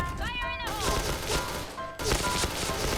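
Explosions in a video game ring out as loud, sharp blasts with rattling bursts and a crackling tail, crowded together in quick succession close up.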